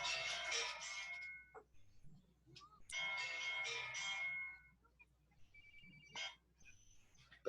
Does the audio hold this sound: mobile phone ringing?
yes